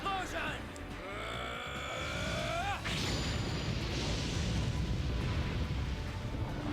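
A spell cast in The Legend of Dragoon, the Explosion magic: rising whistling sweeps give way at about three seconds to a dense, sustained roaring blast that fills the rest of the stretch at a steady loud level.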